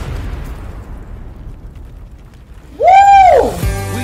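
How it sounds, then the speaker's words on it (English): An explosion in a music video: a broad, rumbling roar that slowly fades, then a loud tonal swooping sound rises and falls near the end. "An explosion."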